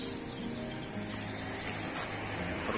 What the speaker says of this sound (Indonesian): perkutut